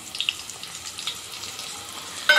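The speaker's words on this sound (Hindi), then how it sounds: "अब हम एक प्याज कट कर कर डालेंगे" Onion pieces frying with cumin seeds in a pan, giving a steady soft sizzle with faint crackles throughout and a brief louder burst of hissing near the end, with no talking.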